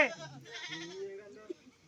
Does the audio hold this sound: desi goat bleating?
yes